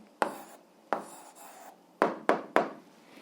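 Handwriting on a surface while working out the answer to an eighth-grade algebra problem: five short, scratchy strokes with sharp starts, two widely spaced, then three in quick succession, close and fairly quiet with no talking.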